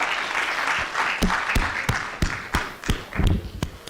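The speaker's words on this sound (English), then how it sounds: "As they go back, can you clap for them?" Audience at a children's national assembly in Kenya clapping together, loud and close, with sharp irregular claps standing out over a steady crowd murmur.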